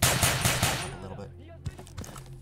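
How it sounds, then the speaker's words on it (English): Close-range shotgun blasts cut down NPCs in the S.T.A.L.K.E.R. Goldsphere OGSR game: a quick volley of loud, booming shots in the first second, then a quieter stretch with a faint thud. "I'm going to slaughter these ecologists right here with a shotgun at close range."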